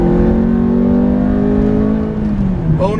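Ferrari F430 with a manual gearbox and its exhaust baffles wired permanently open, its engine note sustained and loud at close range, then easing off and dipping in pitch before a brief rising blip, with no talk.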